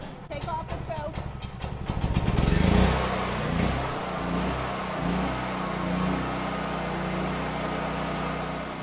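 A Predator 9000W generator engine cranks with a few rapid pulls, then catches and runs with a loud, steady, rumbling drone close by.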